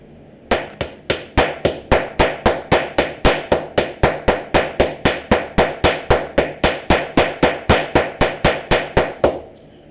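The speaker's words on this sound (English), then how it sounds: "I'm going to keep hammering on it until it's not" A hammer strikes a rivet on a handmade leather backpack in a steady, even rhythm, about thirty sharp, close metallic taps in a row with no talking.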